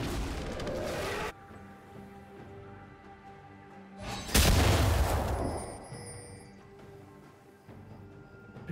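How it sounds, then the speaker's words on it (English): A turret being destroyed in League of Legends during a Vladimir versus Ekko mid-lane match, a sudden loud crashing boom that swells and rolls off over a couple of seconds amid steady game sounds and faint music, with no speech. "Blue team's turret has been destroyed."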